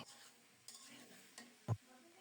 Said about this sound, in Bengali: নারিকেল সরিষা বাটা দিয়ে দিলাম এবার বেশি কষাতে হবে না কারণ সরিষা নারিকেল কোনোটাই বেশি ভাজার প্রয়োজন নাই একটু মিশিয়ে দিচ্ছি